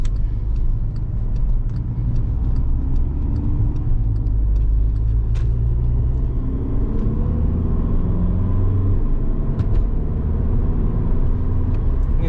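A 2013 Volkswagen Jetta Sportwagen TDI diesel drives along a choppy road, its low engine and road rumble droning steadily from inside the cabin with light bumps and ticks.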